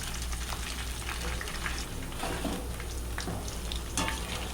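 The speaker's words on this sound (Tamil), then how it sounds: "இந்த மாதிரி அப்படியே அப்பப்போ லைட்டாக மிக்ஸ் பண்ணி விடுங்க அப்போ தான் ஈவனாக எல்லா சைடும் வந்துட்டு உங்களுக்கு ஃப்ரை ஆகும்" Soya chunks frying in hot oil for soya chunks 65, stirred now and then from the side of the pan: a steady close sizzle with soft scraping and bubbling throughout, no voices.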